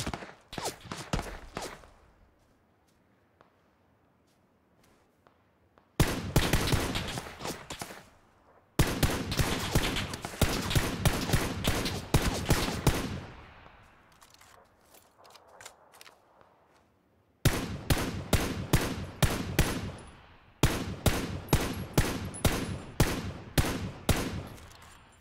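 Gunfire in the World War–era video game Foxhole crackles in several dense rapid volleys, each a burst of sharp close shots separated by quieter pauses with faint distant pops.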